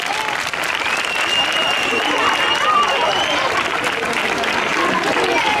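Steady crowd applause fills the air at an outdoor solidarity event, a dense continuous wash of many hands clapping at an even level throughout, with no pause.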